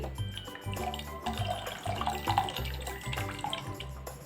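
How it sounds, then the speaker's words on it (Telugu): Tamarind pulp extract pours into a pot of moringa-leaf dal, giving a steady close watery splashing and trickling that runs on throughout with no talk. "ఇప్పుడు కొద్దిగా చింతపండు పులుసు వేసుకోవాలి"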